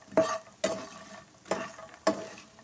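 Makhana fox nuts roasting in ghee in a pan, stirred in four separate close scraping strokes with a light sizzle between them and no talking.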